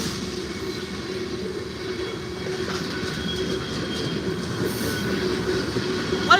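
Norfolk Southern freight train with a mid-train DPU rolling steadily past at close range, continuous wheel rumble and rail noise with faint squeal, no voices.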